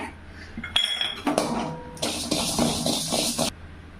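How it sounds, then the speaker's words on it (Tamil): Fennel seeds are dry-roasted in a pan over a low flame for a homemade meat curry masala powder, with sharp metallic clinks and scrapes, then a long bright rattling hiss as the seeds shift and sizzle, close and fairly loud. "சோம்பு வறுத்துக்கலாங்க"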